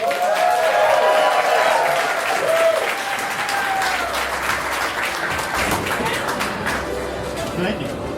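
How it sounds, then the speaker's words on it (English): An audience at a Level 4 showcase performance applauds the players steadily, a dense wash of clapping with some cheering and crowd noise, continuous throughout. "Give your players a big round of applause."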